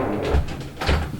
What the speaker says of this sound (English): Sorry, I had to shut my door there.